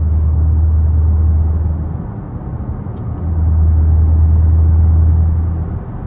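Dodge Charger Widebody Hellcat, 717 hp, heard from inside while driving: a steady deep engine rumble that eases off midway and then swells again, with no talking.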